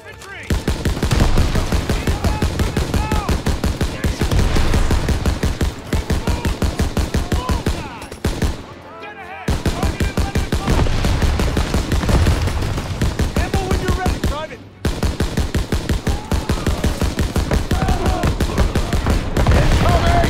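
Sustained machine-gun and rifle fire in a video-game battle, relentless rapid bursts that are loud and close, broken by two brief pauses, with shouted voices mixed in.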